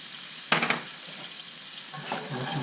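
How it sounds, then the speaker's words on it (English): Cream sauce with a little salt sizzles steadily in a pan, with a brief scraping burst of stirring near the start and softer stirring scrapes toward the end, no voices. "Stir it for a minute till it reduces down a little bit and thickens up"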